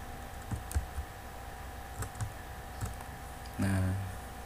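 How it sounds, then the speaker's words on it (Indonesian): A few soft, scattered clicks of keys pressed on a computer keyboard, trying a Ctrl+X shortcut on a Debian 9.4 system, quiet and close with sparse irregular taps and a short thud near the end. "CTRL-nya berarti ditekan, dan ditekan juga huruf X"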